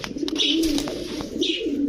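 Low, throaty cooing from a female Giribaz pigeon repeats in soft rolling phrases, close by, with a few faint chirps and clicks in the background.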